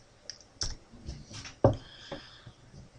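A few keys are pressed on a computer keyboard, giving sparse, close plastic clicks spread unevenly over a quiet room.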